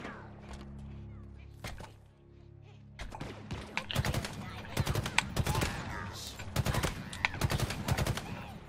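Battle rifle fire in Halo Infinite, scattered thumps early giving way to repeated sharp bursts of shots, moderately loud and close, over low background game ambience.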